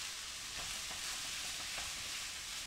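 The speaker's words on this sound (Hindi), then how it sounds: "बस सारी चीज़ों को अच्छी तरह से मिक्स कर लेंगे।" Chicken noodles with Schezwan chutney are stirred in a hot pan, a continuous soft sizzle and hiss with faint scraping movements, steady and fairly quiet.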